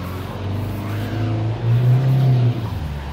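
Medium SUV in off-road terrain mode on a hill, its engine revving steadily and climbing in pitch under throttle, loud and close with no speech.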